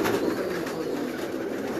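A Rampuri pigeon coos, a low soft repeated call heard close by against a steady background hum, with no talk.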